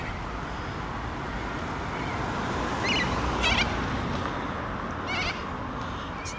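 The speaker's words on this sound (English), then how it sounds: "So that call is the corella." Flock of corellas mixed with cockatoos at a beach, giving a few short raspy calls at middle distance over steady broadband wind and surf noise.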